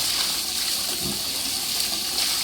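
Water runs steadily over a German shepherd sitting still during its bath at home, a continuous close rush of splashing flow with no break.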